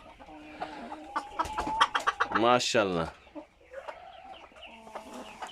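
Sebright chickens cluck and a Sebright rooster gives a short squawking call nearby, with someone briefly speaking over the birds.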